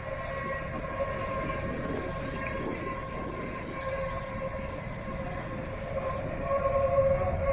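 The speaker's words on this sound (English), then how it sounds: "you can see how all the trains move through here" A Berlin U-Bahn subway train rumbles steadily past with a sustained metallic whine and rolling wheel noise, swelling slightly louder near the end.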